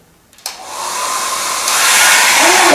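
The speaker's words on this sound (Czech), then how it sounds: "Zapni fén na maximum." A handheld hair dryer switches on and climbs to full power, becoming a loud, steady, close airflow roar that grows slightly stronger near the end.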